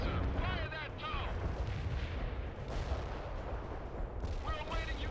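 A TOW missile fires in the World in Conflict game amid heavy battle noise: booming low-end blasts and rumbling explosions run continuously, with muffled radio-style voices talking over the combat.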